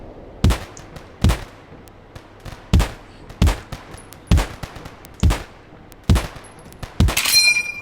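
Gunfire in the video game Poly Field: about nine sharp, loud shots spaced roughly every three-quarters of a second, ending in a denser burst of crackling impact noise, with no talking.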